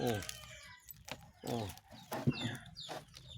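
Chickens cluck on a farm after being bathed, their calls coming in short bursts close by, with someone talking over them.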